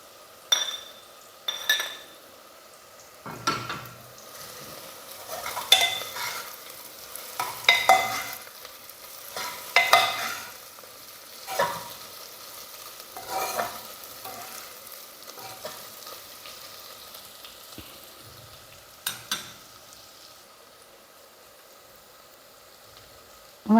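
Bitter gourd pieces, fried beforehand, tossed into a pan of frying onions, giving a soft continuous sizzle broken by clinks and scrapes of a spoon stirring against the pan, with louder stirring bursts spaced through the stretch.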